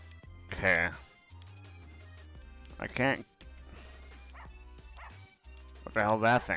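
Three loud, sharp dog barks in the video game Russian subway dogs ring out at roughly one, three and six seconds, each a short burst over a low droning game backdrop.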